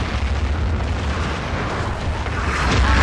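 Artillery explosions rumble in Battlefield 2, a dense loud roar of deep booms and crackle that swells toward the end.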